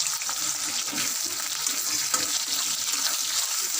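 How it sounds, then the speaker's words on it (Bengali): Onions frying in hot oil until reddish brown, a dense, even sizzle heard close up with faint stirring underneath, steady throughout and without speech. "পেঁয়াজগুলো একটু ভালো করে লাল লাল করে ভেজে নেব"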